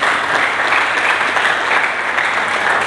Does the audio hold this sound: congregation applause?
yes